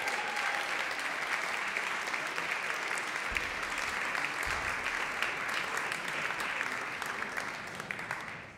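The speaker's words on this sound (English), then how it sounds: "Another round of applause for Orchestra Rota." Applause for an orchestra at a school music conference's opening ceremony, a dense, even wash of clapping from a large audience heard somewhat distantly, continuing for over eight seconds and tapering slightly at the end.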